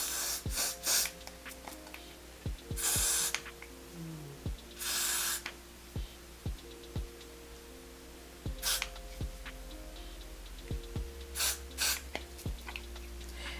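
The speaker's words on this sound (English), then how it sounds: "I'm gonna use my Got to Be Glued freezing spray." Got to Be Glued freezing spray misted onto the lace of a synthetic lace front wig, a few short bursts of hissing aerosol spaced apart among quiet handling sounds.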